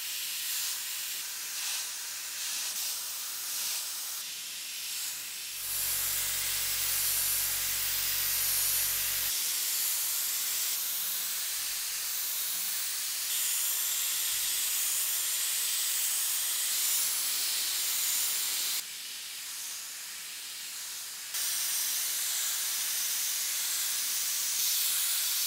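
Airbrush spraying for nail or makeup work, a steady hiss of compressed air that runs almost the whole time with brief shifts in tone and a short low rumble, close and fairly loud, with no talk.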